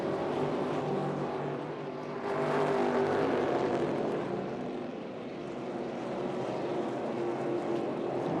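NASCAR Cup Series stock cars racing in the All-Star Race, a steady wash of engine roar from several cars that swells and fades slightly as the field passes, continuous throughout with no talk.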